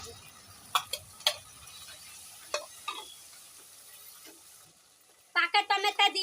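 Ground spice paste goes into a pan of frying onion and garlic, giving a faint, low sizzle punctuated by a few sharp utensil clicks, then a quick burst of clattering stirs at the end.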